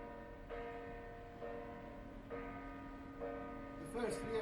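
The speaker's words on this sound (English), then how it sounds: "what they felt when they heard this bell ringing for the first time" A Cottonera church bell from 1880, still uncracked, strikes four times in an even slow rhythm, each clear ringing tone sustaining and overlapping the next, with a brief clatter near the end.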